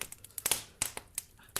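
Paper 2020 calendar being crumpled by hand, a series of sharp, close crinkling bursts in irregular clusters, moderately loud with no talk over it.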